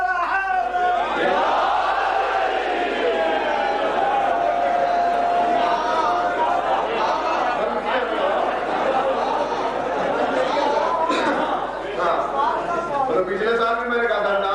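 Crowd at a religious gathering in Multan chanting a slogan in unison, a dense sustained mass of voices rising and falling together, loud and close throughout with a brief dip near the end.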